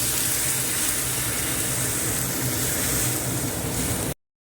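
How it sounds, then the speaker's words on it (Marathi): Hot water poured into a pot of soaked moong and toor dal, a loud, steady rushing pour close by that cuts off abruptly near the end. "गरम पाणी घालायचं"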